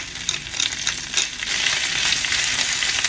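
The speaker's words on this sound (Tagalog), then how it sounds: "Lutuin lang natin ating vegetables kung pwede na." Vegetables for a spinach and mushroom omelette sauté in a pan, sizzling close and steady, with bursts of stirring and scraping in the first moments and no voices.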